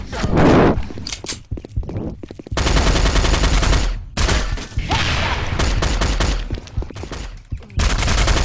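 Rapid bursts of automatic fire from dual MP7 submachine guns in a shooting video game, loud and nearly continuous with brief pauses, under excited talk from a player.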